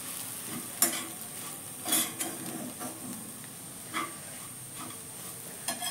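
Spoon scraping and stirring in a pan as crushed peanut powder is mixed into bitter gourd sabzi, with soft sizzling under a few sharper metallic clinks; close and fairly quiet, no voices.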